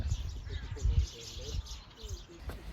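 Cranes at a crane center in Bhutan give a few faint, wavering calls over a low outdoor rumble, with a murmur of background noise throughout.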